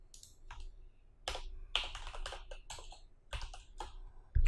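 Code is typed on a computer keyboard in bursts of close, crisp key clicks with short pauses between runs, quiet and without talk.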